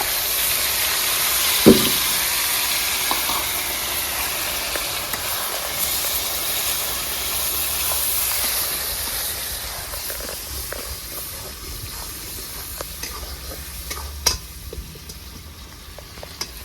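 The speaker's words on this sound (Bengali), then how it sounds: "পেঁয়াজটা আমার ভালো করে ভাজা হয়ে গেছে" Onion paste sizzles and hisses steadily in a hot pan while cooking prawn malai curry, broken by a couple of sharp clanks of a utensil against the metal.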